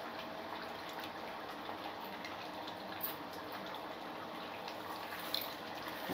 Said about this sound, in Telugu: మరిన్ని నీళ్ళు పోసి మంచిగా కడుక్కున్నా.